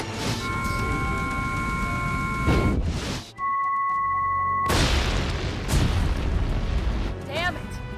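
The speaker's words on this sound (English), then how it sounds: "Define irony, being shot down by one of your own missiles." In a late-1990s action film, a missile blasts an aircraft out of the sky with loud rumbling booms over a steady engine drone and dramatic tones, followed by a brief hush and another heavy blast.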